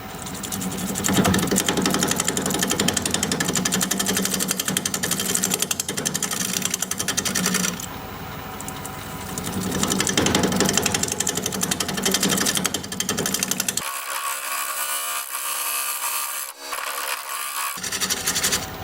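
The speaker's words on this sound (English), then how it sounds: "We're going to be turning at 700 RPM, 5/8 inch bowl gouge." A wood lathe spinning at 700 RPM turns very hard end-grain wood with a 5/8 inch bowl gouge, giving a loud, harsh, chattering scrape that runs nearly continuously, easing briefly midway before resuming, then shifting to a thinner whine.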